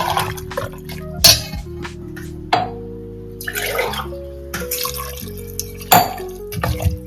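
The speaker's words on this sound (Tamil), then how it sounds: "தண்ணி 1 டம்ளர் ஊற்றி மிக்ஸ் பண்ணி விட்டு மூடி போட்டு வேக வச்சுக்கலாம்." Water is poured into a pot of mutton kurma, heard as loud, near splashing and dripping over a steady pouring wash, with a few sharp clinks of metal cookware.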